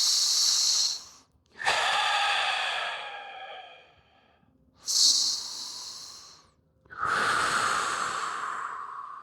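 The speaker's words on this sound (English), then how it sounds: "take 3 deep breaths" During a yoga pose for the pelvic floor, someone takes long, deep breaths up close, alternating airy inhales and exhales about four times with brief pauses between them.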